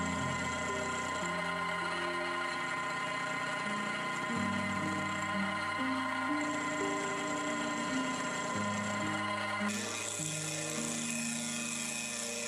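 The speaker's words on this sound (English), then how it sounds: "To machine the rounded section of the fork, I used the rotary milling and dividing attachment I made for the new watchmaker's lathe." A small watchmaker's lathe with a homemade rotary milling and dividing attachment cuts a rounded fork section, giving a steady high whine with shifting tones that run continuously throughout.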